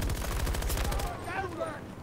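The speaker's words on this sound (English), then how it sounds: "We're getting sniped at" Rapid bursts of gunfire fill a Battlefield 2042 firefight, loud and repeated for the first second before thinning out under a voice.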